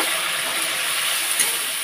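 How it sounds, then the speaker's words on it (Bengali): Spice paste sizzling in a pan just after a splash of water, a steady close hiss of frying with no pauses, loud and even throughout. "তো হালকা একটু মশলাটার মধ্যে একটুখানি জল দিয়ে দিচ্ছি।"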